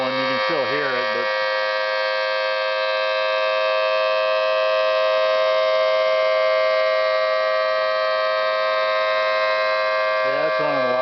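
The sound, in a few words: electric siren blower running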